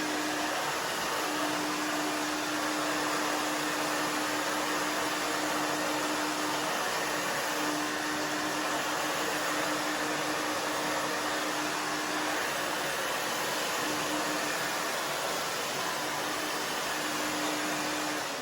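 A hair dryer blows steadily while blow-drying a woman's haircut, a continuous loud whooshing airflow with a constant motor whine, no talk.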